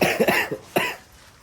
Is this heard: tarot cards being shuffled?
no